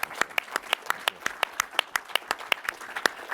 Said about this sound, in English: I'd love a round of applause just for the efforts there.